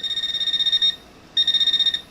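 A Garrett Pro Pointer AT metal detector sounds its alert, a loud rapid pulsing electronic beep tone in two bursts separated by a short quiet gap.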